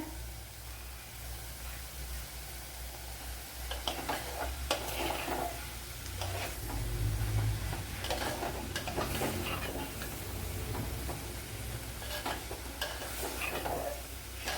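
Chopped papaya stir-fries in a pan over raised heat with a steady, close sizzle, while stirring and scraping swell and fade through it.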